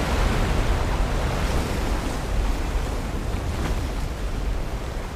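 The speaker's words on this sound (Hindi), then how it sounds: "ऐसी आवाज जैसे शिव जी की जटा से गंगा जी बह रही हो।" Water gushes out of an old pit that has burst open under intense water pressure, making a loud, steady, broadband roar that carries on unbroken throughout with no voices.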